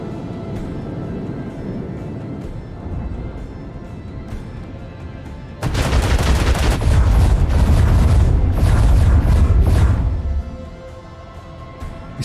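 Torpedoes launch in a space battle in the game Warhammer 40k: Rogue Trader: after a low rumbling bed, a sudden loud booming barrage bursts in and rolls for several seconds before fading back to a quieter rumble.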